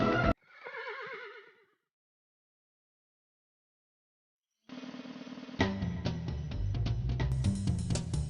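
A cartoon horse gives a short whinny near the start, followed by a stretch of silence and then a band of music rising up, all in a Hindi animated fairy tale.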